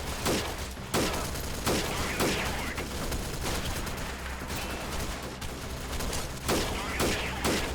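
Dense, sustained gunfire from a tank and infantry in a guerrilla-warfare video game, with sharp bursts repeating through a constant battle din, loud and continuous.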